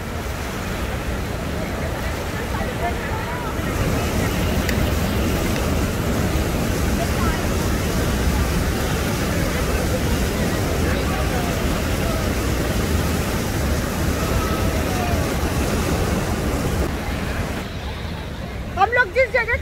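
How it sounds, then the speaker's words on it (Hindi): The Dhuandhar waterfall at Bhedaghat near Jabalpur gives a constant, powerful roar of falling water close by. A deep rumbling wash runs unbroken throughout, with a voice faintly audible near the end. "धुआंधार जल प्रपात के सामने माई फोर्स देखी कितना फोर्स है पानी में।"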